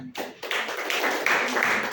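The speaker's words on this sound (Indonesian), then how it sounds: "Kita kasih tepuk tangan." Students in a classroom clap after a group presentation, a short burst of scattered, fairly close handclaps without talk.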